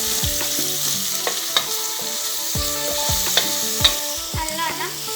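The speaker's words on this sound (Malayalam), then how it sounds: "നല്ലോണം വഴറ്റിയെടുക്കാം" Onion, tomato and green chili sauté in a pan for a Malayalam-style beef curry, with a steady sizzle of frying broken by repeated scraping and clattering stirs of a spoon against the pan, close and alone.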